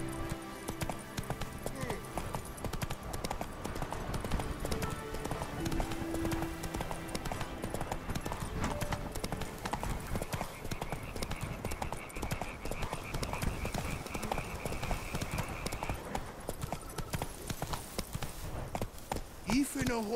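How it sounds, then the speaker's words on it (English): Galloping horse hooves from The Witcher 3: Wild Hunt – Blood and Wine, a steady rapid clip-clop running throughout, mixed with game music and a brief whinny, with voices speaking over parts of it. "Even a horse drops if you ride it at a constant gallop."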